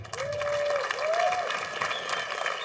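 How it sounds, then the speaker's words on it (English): Audience applause at a venue during the Super Ball 2018 finals, a sustained crowd clapping throughout at moderate distance, with a few faint whistles rising above it. "So I would like you to give them random applause"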